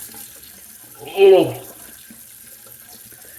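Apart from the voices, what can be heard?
cold water running from a tap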